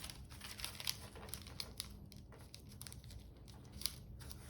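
Paper being folded by hand for dahlia paper stars, faint soft crinkles and rustles with a few crisper creases, close and quiet, with no talk.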